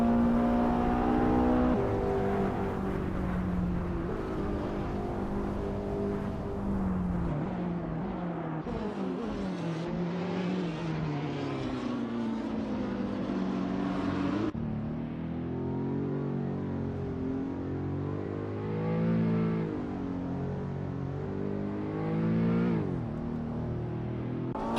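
Supercars racing at Seattle Circuit in a video game, with engine tones rising and falling through gear changes as cars rev and sweep past, a continuous motor drone throughout.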